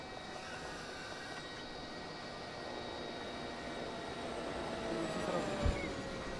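A helicopter in ArmA 3 flies past close by, a steady rotor and turbine roar that swells slightly toward the end, with a voice talking faintly underneath.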